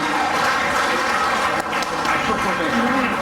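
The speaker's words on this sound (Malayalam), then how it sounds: "അതിനൊരു സ്പെഷ്യൽ കയ്യടി." Audience clapping at an Onam celebration, a dense steady wash of applause filling the hall loudly and continuously throughout.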